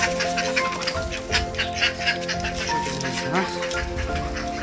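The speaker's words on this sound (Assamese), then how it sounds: "হাঁহখিনি খুলিব সময় হৈ গ'ল ৰাতিপুৱা।" Ducks raised on a building rooftop quack in the morning, a busy run of nasal calls close by and fairly loud throughout, with voices talking over them.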